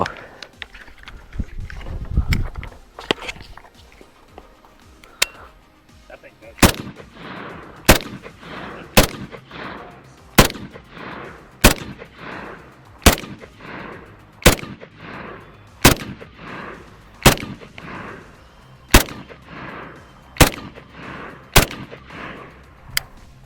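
A SIG SPEAR .308 rifle fires about fourteen loud, sharp gunshots at a steady pace of roughly one per second outdoors, each crack followed by a brief echo, with a few quieter bumps and handling noises before the shooting starts.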